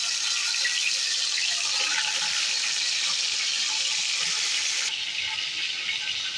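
Hilsa fish head dropped into hot oil frying with a broad, steady hiss and crackle, close and continuous, easing slightly near the end.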